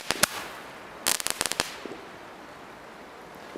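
A couple of sharp firework bangs, then a quick cluster of cracking shots from a Roman candle, some misfiring, followed by faint pops and quiet background.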